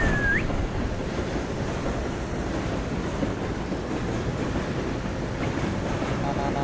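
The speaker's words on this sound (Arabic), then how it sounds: "اوه شوف القطار. هذا قطار رابط بين الرياض" A train runs along the Riyadh–Jordan railway beside a highway, a steady loud rumble of rolling wagons with faint clattering that fills the whole stretch, briefly topped by a short high squeal near the start.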